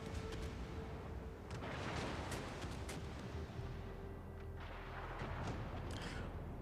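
Naval gunfire and explosions roll through a World of Warships match in dense, continuous booming and crackling battle noise with repeated sharp blasts and no clear pauses.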